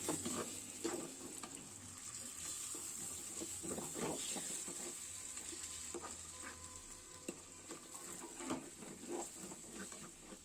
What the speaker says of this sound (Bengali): এখন আমি আমার এই যে মাংসগুলো নাড়াচাড়া করে দিব ভালো করে